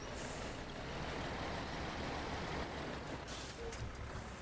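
Kenworth truck in a driving video game, a dense, steady engine and road rumble with brief hissing bursts near the end, loud and continuous with no talk.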